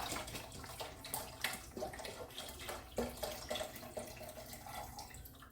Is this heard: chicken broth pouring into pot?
yes